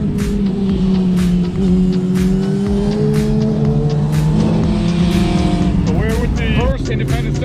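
Racing motorcycle fitted with a Hindle exhaust lapping the Shannonville track on a sunny day, a loud, sustained engine drone that rises and falls in pitch as it revs and passes close by.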